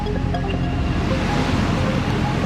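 Surf breaks on My Khe Beach in Da Nang as a steady, loud wash of waves mixed with wind buffeting the microphone, and no clear voices are heard.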